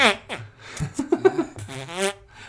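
A rubber pencil-sharpener gadget squeezed to make several short, buzzy fart-like blurts, close and fairly loud, with brief laughter and voices between them.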